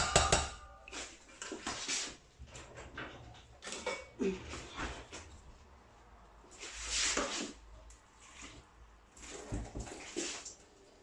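Vermicelli for a fish bourek filling being drained in a kitchen, with splashing water and clinks of a pot and colander coming in irregular bursts, fairly close.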